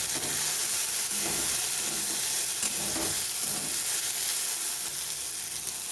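Mashed green pea filling with sugar, salt and ground fennel frying in a pan for kachori, a close, steady hiss and sizzle with a few soft stirring scrapes, no talk.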